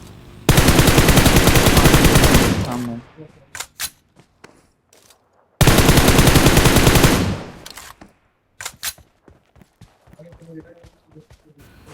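Machine gun fire in PUBG Mobile comes as two long, loud sustained bursts of rapid automatic shots, each trailing off into scattered single shots and clicks, with a voice talking in between.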